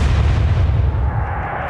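A heavy naval gun fires in a WWII naval warfare video game, leaving a loud, deep booming rumble that rolls on and slowly fades over a couple of seconds, with no voices.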